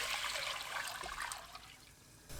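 Water pours into a pot holding 16 cleaned soup-stock anchovies just stir-fried over high heat, a brief, close rush and splash with no voices.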